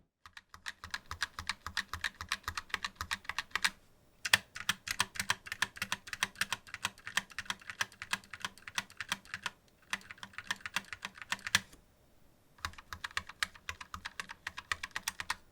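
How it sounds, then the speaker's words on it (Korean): Rapid typing bursts on a ROCCAT Vulcan 2 Mini Air wireless low-profile keyboard with revised stabilizers, close and crisp, broken by a few short pauses, with no voices. "이 기존 모델 대비 스테빌라이저의 그 철심 소리가 상당히 많이 잡혔어요."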